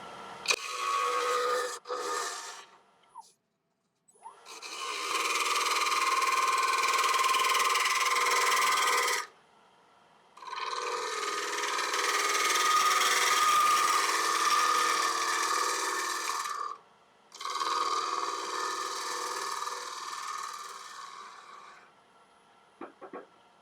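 A lathe gouge ground to a 55-degree bevel cuts a small wood burl in three long, steady passes of scraping, hissing shavings, each broken by brief silence, with the lathe humming close by.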